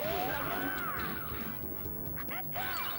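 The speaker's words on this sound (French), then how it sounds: "Il explose bien, hein, je trouve." An enemy blows up in the PS1 video game Hokuto no Ken, a crunchy crash with wobbling, warbling synthesized tones that rise and fall over a few seconds, loud and close under ongoing game audio.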